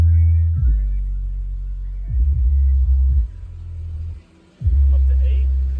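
Heavy bass-driven music plays at moderate volume through the sound system of a 2003 Ford Ranger XLT FX4 Level 2 crew cab, with deep thumping bass hits pulsing in an uneven rhythm and a brief drop in level.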